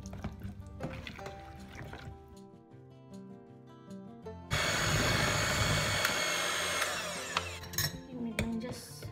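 An electric mixer whirs loudly into marble cake batter after a quieter stretch of music and clinking, a steady churning roar that holds for several seconds before easing slightly, close by, with no talking.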